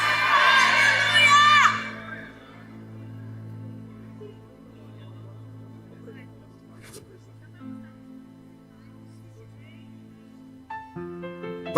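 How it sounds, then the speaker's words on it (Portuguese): A church congregation raises a loud burst of shouting and cheering in praise at the start, fading after about two seconds into a quieter hall with low sustained musical tones, a few scattered voices and a brief rise near the end. "Então dê um grito de glória a Deus aí."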